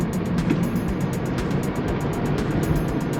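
A Tesla Model 3 Dual Motor accelerates hard on a winding mountain road, a loud steady roar of tire and road noise with wind rushing past inside the cabin, no voices.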